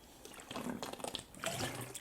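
Someone gulps water from a gallon jug in quick, close swallows and sloshes, a liquid rushing sound in uneven bursts with short pauses between them, and no talking.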